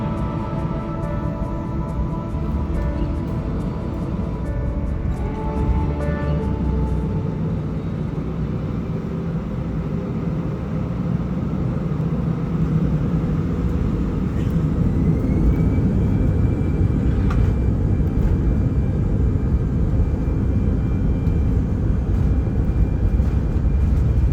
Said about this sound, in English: Taking off out of Edinburgh